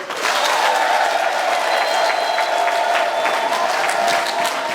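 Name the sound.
applause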